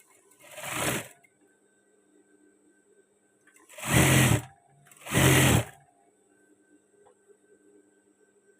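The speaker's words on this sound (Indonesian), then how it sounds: "langsung kita jahit dari lengan seperti ini ya" A sewing machine stitches the side seam of a men's batik shirt from the sleeve down in three short bursts, one near the start and two close together later, with quiet pauses between.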